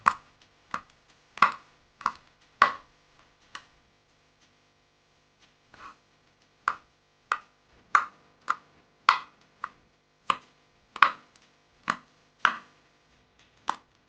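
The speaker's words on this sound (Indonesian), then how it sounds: "Ini prosesnya, potong-potong dulu cabai rawitnya" Bird's eye chilies and curly chilies being chopped on a board, sharp knife knocks in irregular clusters with a short pause midway, close and fairly quiet with no talk.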